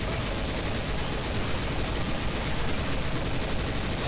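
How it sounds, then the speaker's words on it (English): Rapid, continuous gunfire from the Left 4 Dead 2 video game, dense and unbroken for several seconds, loud and close with no pauses or talk. "Just keep shooting."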